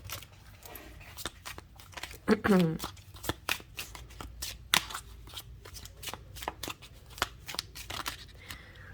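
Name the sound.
shuffling tarot cards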